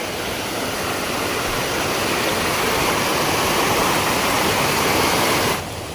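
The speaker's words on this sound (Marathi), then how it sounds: "पाणी कसलं वाहतंय मस्तपैकी" Steady rushing of flowing water, loud and continuous like a nearby stream, cutting off abruptly just before the end.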